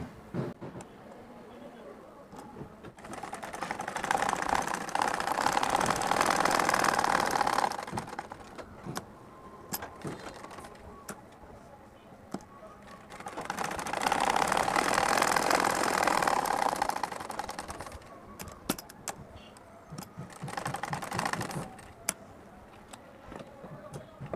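A chain-stitch sewing machine sews the pocket of an Arabian jubba in two long, steady runs, with quieter handling and clicks between them and a person speaking softly in places.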